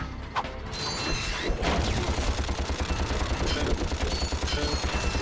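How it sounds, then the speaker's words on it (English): Gunfire from the video game Ratchet & Clank HD: rapid mechanical ratcheting shots in a fast, steady rhythm over game music and effects, with a few louder impacts near the start. "It's so hard to shoot at enemies in this game."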